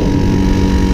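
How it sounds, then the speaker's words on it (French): A 1977 Motobécane M7 moped engine held at full throttle gives a steady, loud, close buzzing drone with a dense low-pitched hum and some wind rush over the microphone. "On entend le moteur, les rupteurs là."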